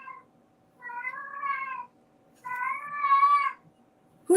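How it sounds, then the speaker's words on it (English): A female cat in heat yowls loudly in two long, drawn-out meows, each rising and wavering, close by with a quiet pause between them. "Oh, that's my cat."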